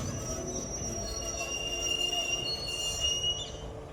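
Steady rumble of a passenger train rolling slowly into Anangur railway station between Salem and Erode, with high metallic wheel squeal ringing over it, close and continuous.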